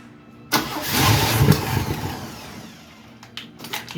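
A 1979 Chevy Nova with a freshly rebuilt carburetor cranks and fires, its engine catching loudly and running rough at a ragged idle for a few seconds, then dropping off before short sputtering bursts return near the end.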